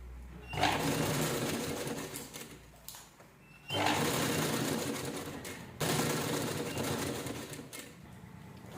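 A sewing machine stitches a chain onto a one-side purse in three loud whirring bursts of rapid stitching, separated by short pauses, close up with no talk.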